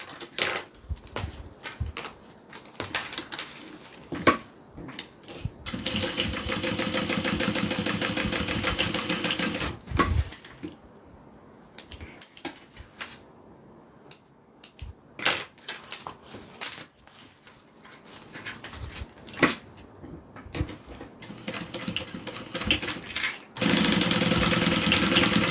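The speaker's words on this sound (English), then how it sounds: "now we're going to go ahead and sew these sides together" A sewing machine stitches the sides of a project together in several long runs separated by pauses, with steady mechanical whirring that rises and falls in loudness.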